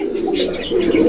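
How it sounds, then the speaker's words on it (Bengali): A male pigeon cooing up close, one loud throaty rolling call that swells and trails off, with a brief higher chirp partway through. "দেখেন এই যে নটটার ডাক দেখছেন,"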